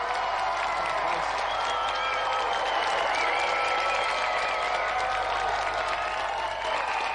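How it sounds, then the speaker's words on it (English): Studio audience applause at a televised video-game show, a dense, steady wash of clapping that holds loud and continuous from start to finish with a hint of cheering mixed in. "So let's have another round of applause for our winner, Dave Goodyear, and our gallant finalist, Pa"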